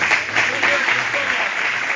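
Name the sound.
applause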